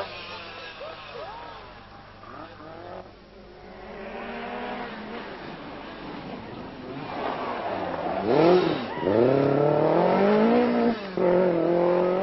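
A Lancia rally car races along a rally stage in the 1983 Rothmans Circuit of Ireland Rally, engine revving and rising through gears, growing louder and closer toward the end.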